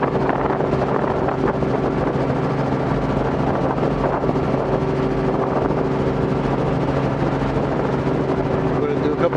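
A helicopter in flight on a maintenance check flight, a continuous loud rotor and engine drone with steady tonal hum and wind buffeting on the microphone, unbroken for the whole stretch.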